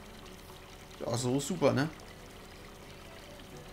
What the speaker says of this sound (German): Guck mal, wie das plätschert hier.